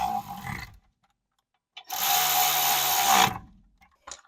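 Ratchet clicking as it turns wheel studs on a Volkswagen Jetta TDI, one steady burst of about a second and a half, close and fairly loud, with brief handling noises before and after.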